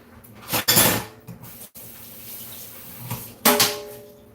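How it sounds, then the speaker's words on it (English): Spoon clinking and stirring tea crystals into hot water in a mug, a few brief bursts of clatter and swirling water separated by quieter stretches, close and fairly loud with no talking. "Stir the crystals up and they melt right away with the hot water."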